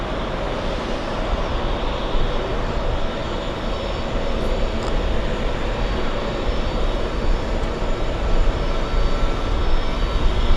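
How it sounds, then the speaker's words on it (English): An airplane passing at JFK airport, a loud, steady jet roar that holds close and constant throughout without fading. "One more plane."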